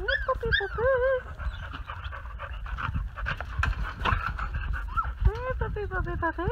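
Three-week-old puppies whimper in high, rising cries and pant rapidly up close, while a person speaks softly to them in between.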